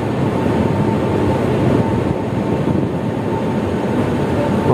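Kerala Express train pulling into Kollam station, a loud, steady rumble of wheels and carriages rolling along the rails, continuous throughout with no voices.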